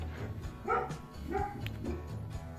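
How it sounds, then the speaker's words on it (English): A dog barks indoors in a quick run of several sharp barks and yips, fairly close and moderately loud, with no talk over it. "my dog's barking at somebody"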